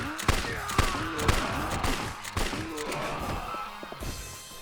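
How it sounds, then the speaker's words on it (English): Gunfire from shooting enemies in a video game, a rapid series of sharp cracks and thuds at irregular intervals with some clattering, fairly close, with speech partly mixed in. "So, shoot everybody."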